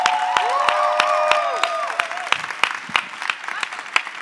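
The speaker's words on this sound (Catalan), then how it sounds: "I un fort aplaudiment encara més fort pel nostre pianista, el Txema." Concert audience at a Christmas gospel choir show in Terrassa breaking into applause, close sharp claps with a crowd behind, while a voice speaks over it at first.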